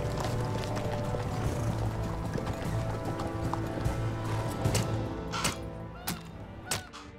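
Many horses' hooves clop across a bridge as an army moves in a fantasy drama battle scene, a steady dense clatter of hoofbeats over a low rumble, with a few louder knocks near the end.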